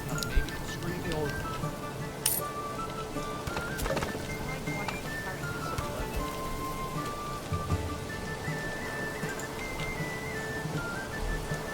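Steady rain patters on the ground in the medieval city-building game Manor Lords, a constant wash that lasts throughout, with someone talking over it and faint tonal sounds above the downpour.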